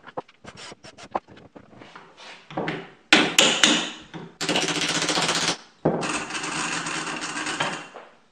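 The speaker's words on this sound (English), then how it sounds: "Let's get some screws in here quick before it comes apart again." Screws go into a brushless DC motor housing in a workshop, with sharp clicks and taps followed by longer bursts of a buzzing power driver, close and fairly loud.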